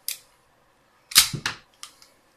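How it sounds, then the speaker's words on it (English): A Bersa Thunder 380 pistol slide is locked to the rear with its magazine removed, producing a sharp near metallic clack followed by a few quick lighter clicks and rattles, with no talking. "Lock the slide to the rear."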